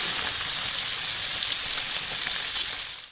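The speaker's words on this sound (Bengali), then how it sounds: "তেলটা গরম হয়ে গেছে, দিয়ে দেবো মাছ" Tilapia fish frying in hot oil, a dense, steady crackling sizzle that stays loud and close throughout before cutting off abruptly at the end.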